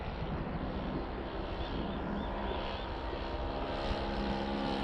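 A large balsa H-King PC6 Porter radio-controlled plane on its maiden flight, a steady distant propeller drone with faint wind and no talk.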